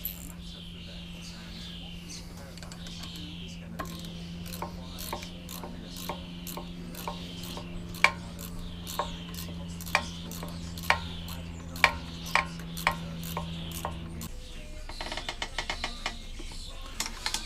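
A ratchet wrench tightens a bolt on a Hayter 48 lawnmower engine, giving a long run of quick, evenly spaced clicks close up over a steady low hum, which changes toward the end.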